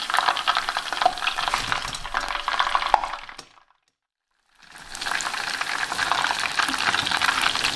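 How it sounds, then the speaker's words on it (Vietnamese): Chicken pieces frying in hot oil, a busy crackling sizzle that stops for about a second of silence, then resumes just as loud and close. "rồi tiếp tục chiên cho hết."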